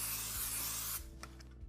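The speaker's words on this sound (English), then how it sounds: "spray it with non-stick cooking spray" A close, hissing burst of non-stick cooking spray into a casserole dish runs for about a second, then cuts off, leaving a low hum and a couple of soft clicks.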